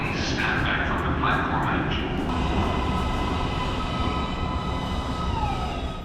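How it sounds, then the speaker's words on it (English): Atlanta MARTA Green Line metro train pulling into a station, a loud continuous rumble with screeching wheel squeal and tonal whines over the roar, lasting the full stretch. "Green line train is approaching the station."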